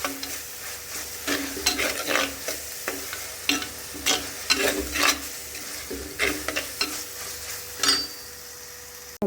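Ginger, garlic and green chili paste frying in a pan for egg masala, with a steady sizzle broken by repeated scraping stirs, close and fairly loud, and no talking.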